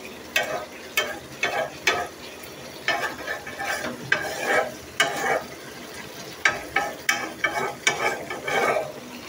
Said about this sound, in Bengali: এই যে আলুটাও ভেজে নিচ্ছি